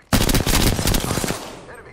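Automatic weapon fire in the video game Apex Legends: a loud, close burst of rapid shots lasting about a second, then a fading tail of echo.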